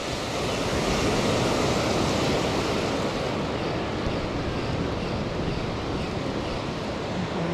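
Rough sea waves and surf roar steadily at the shore, a loud continuous wash of breaking water mixed with wind buffeting the microphone, with no talking.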